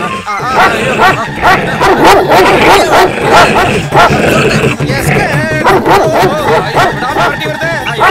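A dog in a Tamil film scene barking and yipping repeatedly and loudly at close range, mixed with excited shouting voices and crowd commotion throughout.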